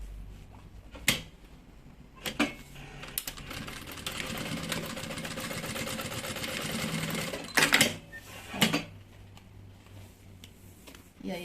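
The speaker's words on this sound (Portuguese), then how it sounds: "é só costurar a outra travinha aqui, rente, com a parte de cima" A sewing machine stitching a short bar tack on a bag, several quick bursts and one longer run of rapid mechanical whirring with clicks between, close and fairly quiet.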